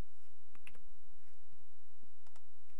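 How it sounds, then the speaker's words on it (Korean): Two quick key presses on a computer keyboard, a Windows key and Home key combination, sound as faint, separate clicks over a low background hum with no talking. "그 다음 얘는 윈도우 키 누르고 홈 키입니다"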